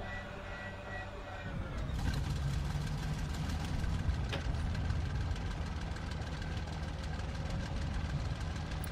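Aircraft engine running while taxiing in the video game IL-2 Battle of Stalingrad, a steady rumbling drone with a rough, knocking throb that swells slightly after the first two seconds and holds at constant loudness, with no talking.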